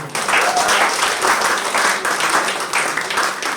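An audience at a Modicare motivational gathering breaks into loud, continuous applause, many hands clapping at once for a few seconds with a brief swell near the end.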